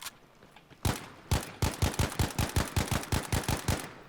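Rapid automatic gunfire in the video game Battlefield 5, a burst of about fifteen close, loud, evenly spaced shots after two single opening shots, with no talk over it.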